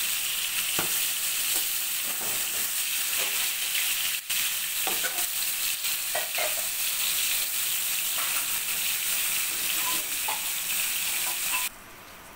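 Hilsa fish pieces frying in oil give a steady, loud sizzle throughout, with scattered crackles and pops and brief utensil taps, and the hiss eases slightly near the end.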